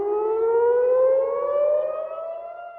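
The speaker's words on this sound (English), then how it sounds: "Air raid sirens sound across Israel and the United Arab Emirates under a barrage of Iranian missiles" A loud air raid siren wails steadily during an Iranian missile barrage on Israel and the United Arab Emirates, its tone slowly rising, with no voices present and the sound fading slightly toward the end.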